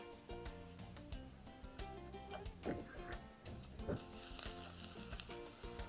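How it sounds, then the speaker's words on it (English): Diced onion frying in a pan over medium-low heat, a quiet continuous sizzle with faint crackles and occasional stirring sounds, no voices. "you want to cook it over medium-low heat until the onion is soft"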